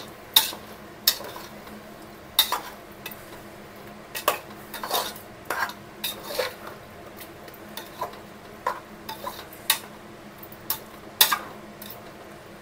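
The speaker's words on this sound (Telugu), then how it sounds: "అది ఈ చికెన్లో వేసేయాలి. వేసేసిన తర్వాత బాగా కలుపుకుంటాం." Spoon scraping and clinking against a metal pot while ground spice paste is stirred into chicken for Karnataka-style donne biryani, producing a steady series of sharp scrapes and taps over a low kitchen hum.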